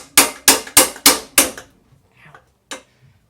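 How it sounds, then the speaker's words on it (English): Five sharp metallic blows from an old hammer striking a bicycle wheel in a steady rhythm, close and loud, followed by a few faint knocks and one last strike. "Let me find a hammer in here. Old busted up hammer."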